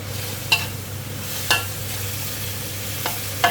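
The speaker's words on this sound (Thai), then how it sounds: "เราก็ผัดคลุกเคล้าให้ทั่วค่ะ" Straw mushrooms and squid stir-fried with holy basil and fried spring onion in a hot pan, a steady loud sizzle broken by sharp spatula scrapes roughly once a second, no talking.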